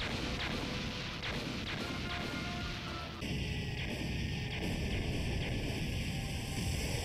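Cannon fire pounding a ship in a One Piece anime battle: dense, continuous booming and crashing impacts, loud and close, with a steady roar behind them.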